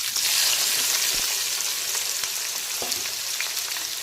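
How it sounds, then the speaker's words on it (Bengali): Chopped onion fries in hot oil with already-toasted whole spices for a spicy mutton curry with Malabar spinach. The sizzle is close, steady and hissing, with occasional pops and no talking. "এখন দিয়ে দিচ্ছি প্রথমে পেঁয়াজ কুচি।"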